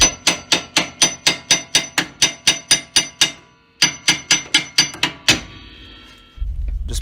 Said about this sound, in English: Put it straight up and down, jack it up into it, and hammer it straight down.